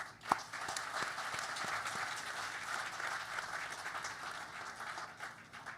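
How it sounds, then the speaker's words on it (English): An audience at a diaspora gathering for India's External Affairs Minister claps steadily for several seconds, with a few sharper individual claps standing out near the start. "A big round of applause for them."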